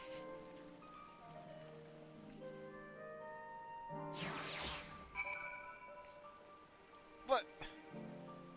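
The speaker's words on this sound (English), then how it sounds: "It's still raining." Rain falling in Final Fantasy XIV: a steady soft patter under sustained melodic game music, with a denser noisy burst partway through and a short sharp chime near the end.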